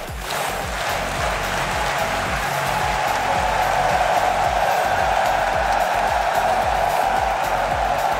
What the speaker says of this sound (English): getting these claps going in the arena. Boston, make sure you join in